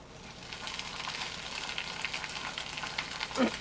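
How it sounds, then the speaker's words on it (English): Veal sizzling in a very hot frying pan, a steady close crackle throughout with a few louder spits toward the end, no voices. "You want a pan real hot for the veal."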